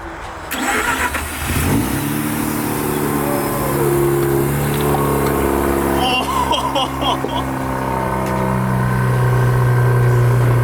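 A Mazda RX-8 rotary engine with its catalytic converter removed starts up and revs, loud and rough, then settles into a steady idle. People can be heard talking over it.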